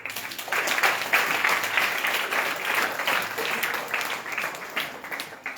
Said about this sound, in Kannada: ಜೋರ ಚಪ್ಪಾಳೆ ತಟ್ಟಿ.